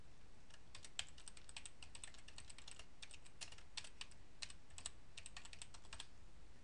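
Fingers type on a computer keyboard in quick, uneven runs of light clicks, soft and close, with a short pause near the middle and no voices.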